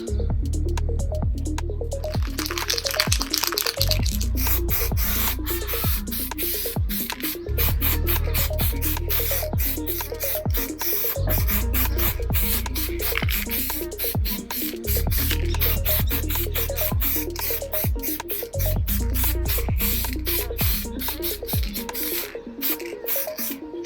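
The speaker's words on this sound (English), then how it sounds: "So I'm just gonna paint this one quickly. Just apply the clear coat." Clear coat paint sprayed onto a car interior piece in short repeated bursts, each hiss lasting a few seconds with brief pauses and clicks between, close and steady with no talking.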